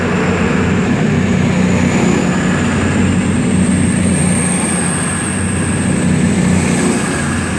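A Class 221 CrossCountry train departing Bristol Parkway station: a loud, steady diesel engine drone with rumbling wheels and a faint high whine, continuous and close throughout.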